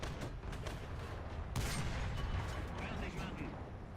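Pz. II H light tank firing in the War Thunder video game, with rapid bursts of gunfire over a dense mechanical rumble and one louder shot near the middle.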